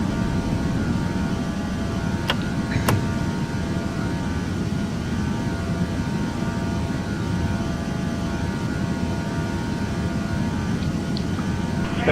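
An Air Canada airliner climbing just after takeoff from Edmonton, a loud, steady broadband engine roar heard from inside the cabin, with a couple of brief clicks early on and no talk.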